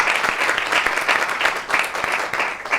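Steady audience applause in a TV studio, close and fairly loud, with overlapping claps forming a continuous wash for a few seconds.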